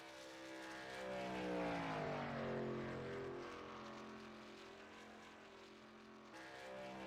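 Race cars on a track at night, engines whining past in a rising then falling pitch sweep as a car passes, the drone continuing faint and steady afterward; no talk.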